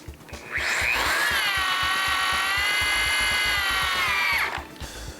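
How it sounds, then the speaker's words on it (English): A BAND-IT power tool tensions a band clamp, its motor whining steadily and close for about four seconds before the built-in clutch stops it abruptly, with faint rhythmic rattling underneath. "Make sure when you're triggering the tool that you hold it down rather than feathering until the tool clutches out."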